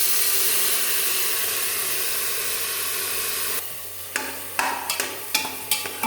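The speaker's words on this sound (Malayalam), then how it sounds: "നന്നായി വഴറ്റി കൊടുക്കാം." Rice and curry leaves sauté in a hot pan, a steady close sizzle and hiss that later drops quieter as stirring adds a series of sharp scrapes and knocks.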